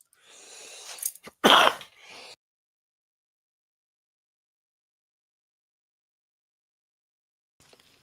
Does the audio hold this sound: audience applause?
no